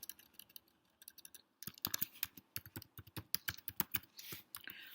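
Rapid keystrokes on a computer keyboard while entering a username and password during a backup domain controller setup, a quiet start giving way to a dense, uneven run of close, crisp clicks.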